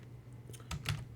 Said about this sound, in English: start typing in there